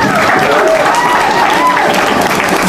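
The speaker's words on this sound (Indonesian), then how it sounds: "Berikan tepuk tangan gemuruh pada kami." Loud, thunderous applause fills a hall at a gala night as an audience cheers an arts academy, a dense continuous roar of clapping with an announcer's voice carrying over it.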